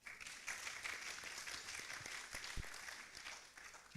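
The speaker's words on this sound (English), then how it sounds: "another round of applause to you" Faint audience applause at an African architecture students' congress, a patter of scattered claps rising and holding steady across a few seconds, distant and quiet.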